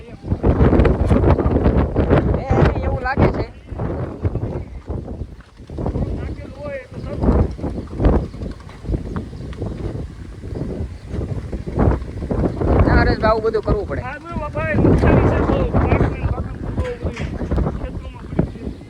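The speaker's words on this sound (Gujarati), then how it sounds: "તમે આ માહોલ જુઓ અને પવન કેટલો છે" Strong gusty wind from an unseasonal storm buffets a farm field in loud rushing surges, nearly constant with rising and falling bursts, while people talk over it throughout.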